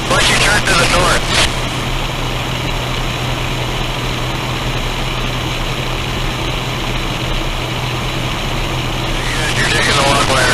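Aerobatic training airplane in flight, a steady loud engine and propeller drone filling the whole stretch, with brief radio or voice bursts at the start and end.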